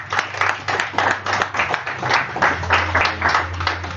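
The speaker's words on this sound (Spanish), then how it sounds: "le damos un aplauso" Audience clapping at a tech meetup about Micronaut, a steady patter of many hands filling the room at moderate loudness for the full stretch, with no talk over it.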